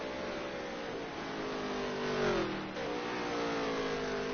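Dirt track race car engines at Richmond drone and rev continuously, a distant field of cars with one engine swelling louder as it passes midway, then settling back into the steady roar.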